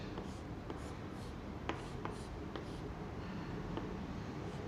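Chemistry structures being written on a board, with faint, scattered scratchy strokes and taps over a steady background hiss and no talk.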